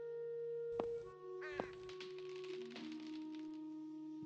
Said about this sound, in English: Large black crows are watching me.